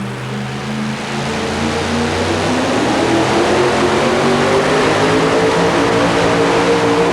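A 2WD pulling truck with a 2,000-horsepower engine revs at full power during a truck pull in Pennsylvania in 1991, a loud, steady, building roar with strong droning harmonics, heard alone.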